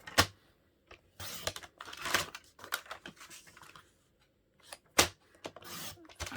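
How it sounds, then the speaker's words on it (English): Cardstock strips for a flip flap fold card are cut with short, crisp slicing and rustling sounds in irregular bursts, close and fairly quiet, with gaps of near silence between. "we're going to cut this at 5 1/2 first this way, and then we're going to cut 2 strips of 3"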